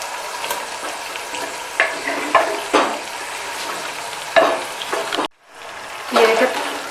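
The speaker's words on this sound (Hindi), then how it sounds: "ये देखिए पालक और कलेजी को मिक्स करना है" A spoon stirs cooked spinach into mutton liver frying in a pan over high heat. Scraping strokes come in repeated bursts over a soft sizzle, with one brief pause near the end.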